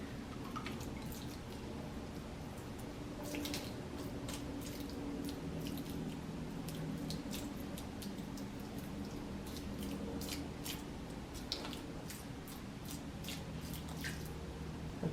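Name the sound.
watering planted seeds, water dripping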